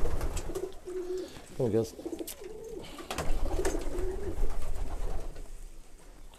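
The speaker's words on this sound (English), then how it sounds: "I'm trying to find the sprint pigeons because they're much bigger." Racing pigeons in a loft give soft, rolling coos near at hand, mixed with flapping and shuffling, while someone speaks briefly over them.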